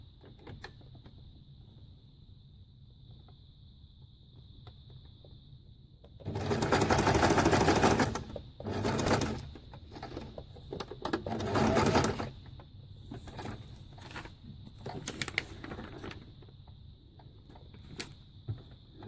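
A sewing machine stitches rows along scrap-fabric trimmed page edges: a loud burst of fast stitching, then shorter runs and bursts between quiet pauses, over a faint steady hum.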